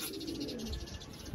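A racing pigeon coos in soft repeated low phrases, fairly close, over steady background noise with a faint high whine.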